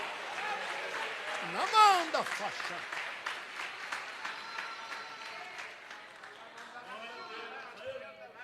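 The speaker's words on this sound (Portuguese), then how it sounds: "Quem acredita nisso, aplauda a Jesus Cristo, por favor." A church congregation claps and cheers during a sermon in a steady, sustained burst, loud and reverberant, with voices mixed into the noise of the crowd.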